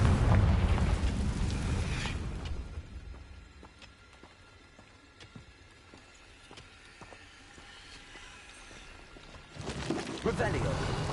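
Bombarda and Confringo spell explosions in Hogwarts Legacy on PS5. A loud rumbling blast opens, fades to a low hum with faint pops, and another heavy burst swells near the end, with voices in between.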